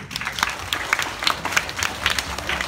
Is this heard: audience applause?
yes